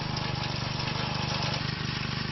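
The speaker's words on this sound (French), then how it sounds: "Le bruit de la moto faucheuse résonne dans le petit matin" A motor mower cutting hay on a steep slope in Bigorre in the early morning gives a steady, loud, close engine drone with a fast rhythmic chatter and little change in pitch.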